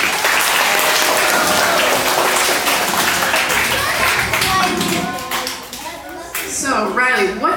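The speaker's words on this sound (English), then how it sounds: "Give her a round of applause." Audience applause in a tent gathering at a summer event, loud crowd clapping with cheering voices that dips briefly, then people talk as it tails off.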